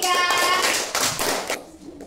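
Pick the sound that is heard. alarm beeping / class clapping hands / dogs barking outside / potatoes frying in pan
class clapping hands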